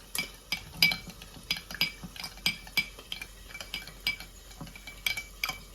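A spoon stirring apple cider vinegar in a container, with dried chillies and mustard seeds for chicken pickle, giving steady rhythmic clinks and scrapes against the vessel, close and alone.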